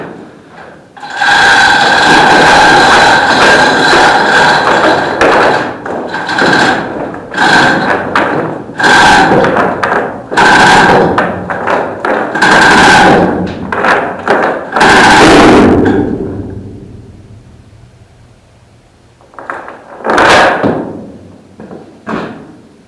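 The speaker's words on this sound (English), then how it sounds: "What it's actually doing is now tearing my weld out of the container." Steel weld tearing out of the skin of a steel shipping container in a workshop, heard as a long run of loud, close, irregular metallic thuds, bangs and creaks, a quiet pause, then a final burst of banging.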